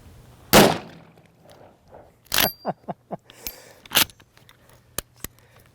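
A 500 S&W Magnum round from a Big Horn Armory lever-action rifle, loaded with 350-grain Hornady XTP bullets, fired at a bowling pin downrange: a loud sharp report, then a spaced series of clattering knocks and thuds, with two later crisp cracks.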